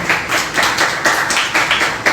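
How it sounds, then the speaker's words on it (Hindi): An audience at a Hindi Day poetry recital claps in rhythmic unison, loud and close, with sharp, evenly spaced bursts about three times per second. "बस जोरदार तालियों से मैं चाहूँगा आप उनका अभिवादन करें।"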